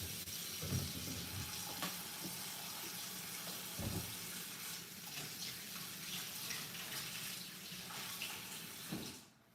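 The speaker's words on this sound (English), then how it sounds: "I gotta wash my hands" Hands are washed under a running tap, a steady close stream of water with intermittent splashes and rubbing bursts that stops abruptly at the end, no talking.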